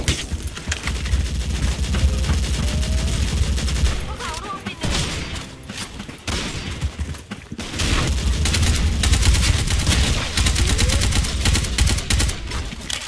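Galil rifle firing in the video game Special Force 2, dense rapid bursts of loud automatic gunfire that continue almost without a break, with a short dip in the middle.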